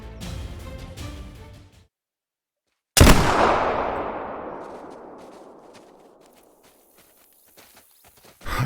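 A single muzzleloader shot fired at a bighorn ram outdoors, one sharp, loud blast whose boom rolls and echoes for several seconds before fading, following a few soft shuffling sounds and a moment of silence.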